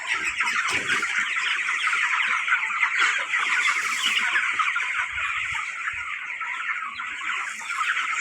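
Crowds of broiler chickens in a poultry farm shed keep up a dense, continuous chorus of overlapping clucks and chatter, loud and steady, with no voices.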